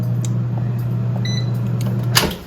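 An air fryer runs with a steady low electric hum while its control panel gives a brief beep as it is switched on and set to cook breaded cod; no one speaks.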